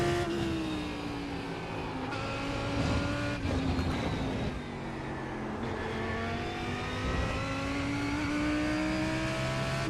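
A GT3 race car in iRacing at Suzuka revs out in fourth gear, its engine whining higher as it climbs, dipping at shifts, then rising again, loud and steady from inside the car with faint tire noise.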